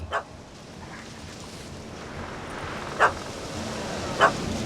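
A few sharp, distant dog barks from a puppy in the video game The Witcher 3, spaced seconds apart over a steady low background hum.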